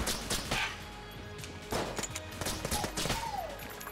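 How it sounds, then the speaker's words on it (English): Triple crossbow firing bolts in Enter the Gungeon, a run of sharp snapping shots in quick bursts with short gaps between them, up close amid other game effects. "This one alternates between slow firing bolts and triple volley."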